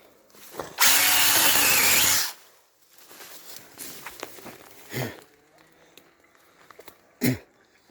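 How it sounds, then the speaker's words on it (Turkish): A loud, steady burst of a cordless battery-powered saw cutting for about a second and a half, followed by quieter handling clatter and a couple of short knocks. "Çok kullanışlı bir testere."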